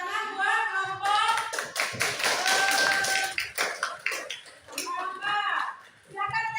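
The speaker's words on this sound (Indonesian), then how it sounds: "tepuk tangan buat kelompok." A classroom group claps for students, a burst of fast hand claps lasting a few seconds that fades at the end, with children's voices shouting and talking over and around it.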